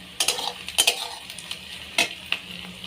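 Onions and spice paste sizzling in a pan under a soft frying hiss, broken by several sharp scrapes and clinks of a spoon stirring against the metal.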